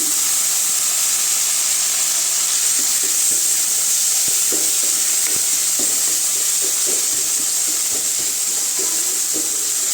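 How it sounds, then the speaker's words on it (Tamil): Tomatoes sautéing in a pan for a spinach kootu give a loud, steady frying hiss and sizzle throughout, with faint soft stirring clicks underneath and no voices. "தக்காளி நல்லா வதங்கட்டுங்க தக்காளி வதங்கிடுச்சுங்க"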